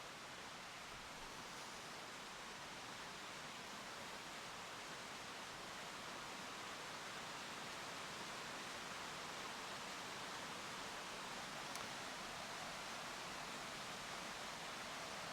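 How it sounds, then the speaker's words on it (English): Heavy rain pours down steadily during Guatemala's rainy season, a dense, loud, unbroken hiss that fills the whole stretch with no voices over it. "It just started to pour rain."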